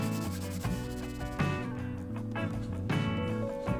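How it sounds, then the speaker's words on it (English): Continuous rough, abrasive rubbing of a sanding disc shaping the wooden neck heel of a guitar, loud and close, with strokes that shift in intensity. "using a sanding disc. Just hold the edges and it will form to the shape"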